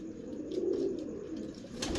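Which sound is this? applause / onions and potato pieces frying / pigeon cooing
pigeon cooing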